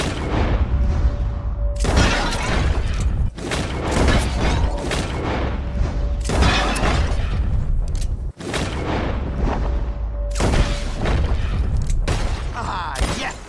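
Gunshots in a Red Dead Redemption 2 shooting challenge: a string of loud, separate shots, some sharp and close, over a continuous busy game backdrop with some speech mixed in.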